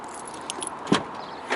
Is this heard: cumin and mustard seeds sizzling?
no